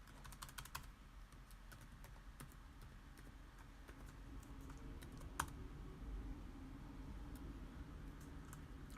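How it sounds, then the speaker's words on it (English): Close, steady typing on a computer keyboard with irregular key clicks and an occasional sharper tap over a low room hum, no voices. "So you can't see me typing this, right?"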